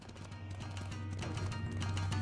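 Horse hooves clip-clop at a steady, fairly quick gait during a Smite match, with repeated muffled thuds over a constant low game hum.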